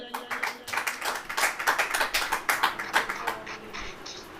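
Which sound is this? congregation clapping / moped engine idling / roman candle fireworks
congregation clapping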